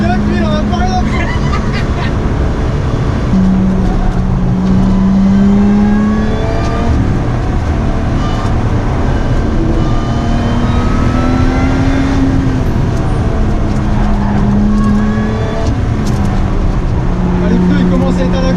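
A Lotus Exige V6 accelerates hard on a race track trackday, its engine droning loudly from inside the cabin with repeated rising gear pulls, while occupants talk over the noise throughout.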